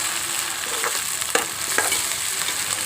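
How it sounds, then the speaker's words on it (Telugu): Ginger garlic paste frying in a pan, a steady close sizzle with a few soft scraping stirs, no voices. "ఇది బాగా ఎర్రగా వేగాలండి."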